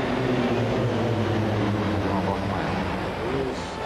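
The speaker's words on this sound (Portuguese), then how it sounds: "Os aviões Tucano." Tucano propeller airplanes fly over a presidential inauguration ceremony, a loud sustained engine drone with a steady low hum that fades slightly toward the end, beneath a broadcaster's voice.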